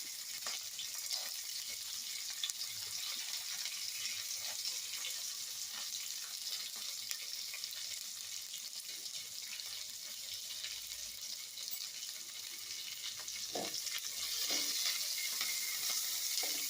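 Peanuts and roasted gram skins frying in a pan, a steady bright sizzle with scattered stirring scrapes and a few sharper clinks toward the end, with no voices.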